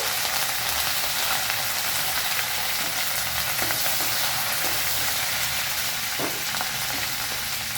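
Urad dal, cumin, mustard seeds and green chillies fry in hot oil as a tempering for a bottle gourd curd pickle, giving a steady loud sizzle with scattered small pops and crackles throughout.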